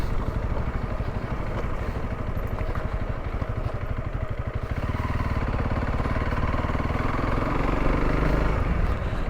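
A Honda CRF300L dual-sport motorcycle runs on a state park trail, its single-cylinder engine thrumming steadily near the rider, the pitch dropping to a lower, smoother drone partway through with a faint mechanical clatter.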